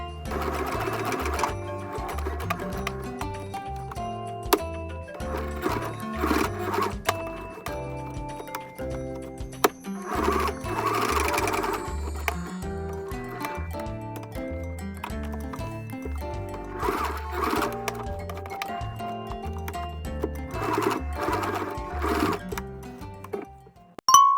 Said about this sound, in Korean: 라벨도 재봉틀 해주세요.